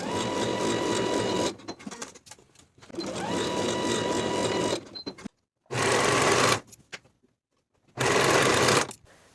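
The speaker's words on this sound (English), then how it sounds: "Sew at 5/8 of an inch, finish the raw edges together and press them toward the back." A sewing machine running seams on a ruffle tier summer dress in three or four loud bursts of rapid whirring, separated by short pauses and near-silent gaps.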